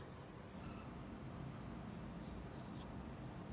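An old plastic fork drags ink lines across paper, a steady, faint, close scratching hiss that runs without a break.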